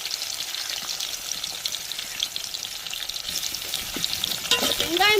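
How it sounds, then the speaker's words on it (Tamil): Onions and green chillies sauté in hot oil with curry masala for a Tamil egg curry, a continuous close crackling sizzle with light stirring, swelling slightly louder near the end. "பச்சை மிளகாலாம் நல்லா வதங்கி வரட்டுங்க"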